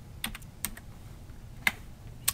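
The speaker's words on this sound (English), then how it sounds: "So let's type index." A computer keyboard is tapped a few times in a quiet room: about five crisp, separate keystrokes spaced unevenly and heard close up.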